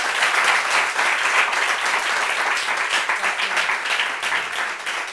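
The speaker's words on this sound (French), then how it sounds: "Oh, ça s'applaudit." An audience at a tribute gathering claps continuously and densely, loud and close, with no breaks across the whole stretch.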